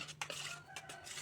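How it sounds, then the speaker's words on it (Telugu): Quick clinks and scrapes of a utensil stirring sago batter with water in a metal pot to remove lumps, close by, with no talking. "ఉండలు లేకుండా ఇది బాగా కలిపెట్టుకోవాలి"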